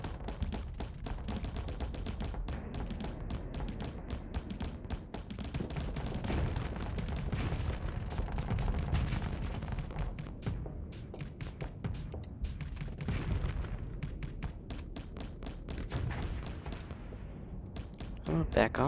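Ship weapons fire rapidly at a pirate in a space combat game, a dense, sustained burst of gunfire-like blasts that runs nearly unbroken and loud throughout, with speech over the top.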